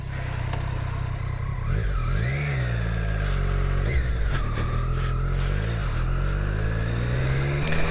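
Triumph Street Triple 765 R motorcycle being ridden, a steady close engine drone with rising and falling revs as the throttle is worked, heavy wind noise underneath, no talking.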